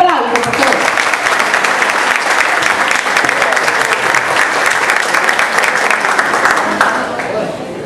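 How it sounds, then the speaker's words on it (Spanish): Audience at a school ceremony applauding a dancer's introduction, loud sustained clapping from a crowd with a voice speaking at the start, tapering off near the end. "Un aplauso."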